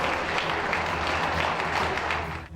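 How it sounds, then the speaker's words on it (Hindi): Sustained, dense applause from residents clapping on balconies during a lockdown cheer for health workers, a steady roar of many hands that fills the street evenly before easing slightly at the end. "ऐसे में पूरा इलाका तालियों की गड़गड़ाहट से गूंज उठा।"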